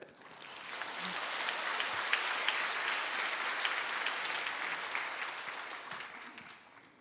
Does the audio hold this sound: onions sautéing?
no